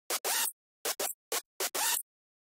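A dry hardstyle screech synth rendered from Serum plays as five harsh, gritty bursts in a choppy rhythm, each cut off sharply, with silence between them.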